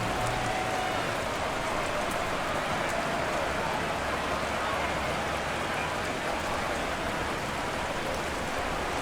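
Constant heavy rain pours over a night football game in Madden 23, a loud, unbroken hiss of falling water that runs evenly from start to finish.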